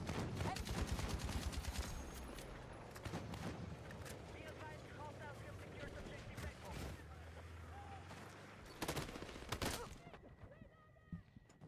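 LMG fire in Battlefield 6 gameplay comes in dense bursts mixed with distant explosions and other combat noise, with a voice talking over it at times.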